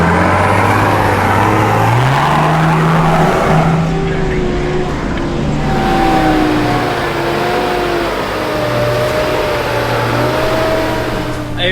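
Car engine droning loudly up close as the vehicle drives over a bumpy, off-camber dirt track, revs rising and shifting through gears with steady road rumble, and voices talking over it.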